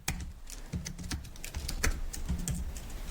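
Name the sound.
typing code on a computer keyboard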